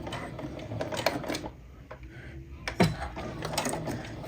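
A sewing machine runs in short, slow bursts of mechanical stitching, pausing in between, as fabric is guided around a curve while making an apron; fairly quiet, no talk.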